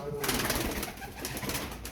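Birds cooing and calling nearby, short soft pigeon-like coos repeating over a brief stretch of outdoor background noise.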